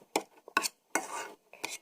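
A homemade lip gloss mixture is stirred in a small container, giving four short close clinking and scraping strokes separated by brief pauses.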